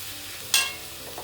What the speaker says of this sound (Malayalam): ഇത് ജസ്റ്റ് ഒന്ന് എല്ലാം കൂടെ മിക്സ് ചെയ്യാം.